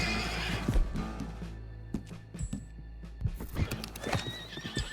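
A horse in Red Dead Redemption 2 gives a loud, close whinny, with hoof clip-clop and scattered clatter around it and no talking.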